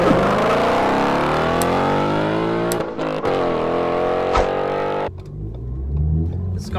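A loud, straight-piped Ford Fiesta ST exhaust with no muffler revs hard, its pitch climbing and dropping through several throttle blips, raw and close.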